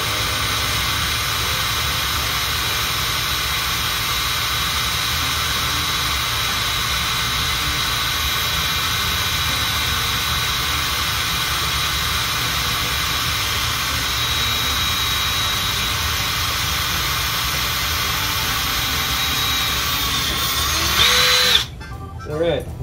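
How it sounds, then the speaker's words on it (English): A power drill bores steadily through a lightsaber hilt during a Mace Windu CFX conversion, a loud continuous whine that holds for about twenty seconds before breaking through and stopping. "So, got that hole drilled out."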